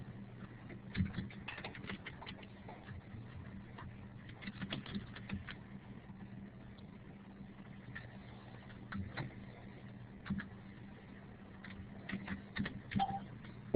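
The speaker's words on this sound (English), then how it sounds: "There he just finished typing." Soft keystrokes tap irregularly on a computer keyboard while a student logs into an account, faint clicks in uneven bursts over a low steady hum.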